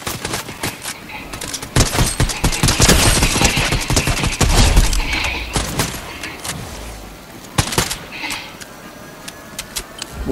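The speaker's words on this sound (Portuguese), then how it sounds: "Muito bom trocar tiro assim em cima do shield." Rapid gunfire exchange in the Fortnite video game, dense bursts of automatic shots and sharp cracks through the middle, thinning to scattered shots near the end, loud and close.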